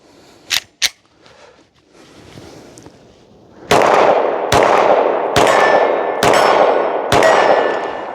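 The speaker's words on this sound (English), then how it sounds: "I'm gonna send 5 shots down and see how tight I can continuously keep the grouping" Five sharp pistol shots from a Ruger RXM fired at a target 35 yards away, evenly spaced and loud with ringing decay, preceded by a couple of quieter clicks and handling sounds.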